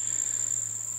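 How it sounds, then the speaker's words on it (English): Bees feeding on a peppermint patch make a steady, high-pitched drone that fills the short clip, constant and close, with no other sounds. "As you can see, the bees are feeding just fine."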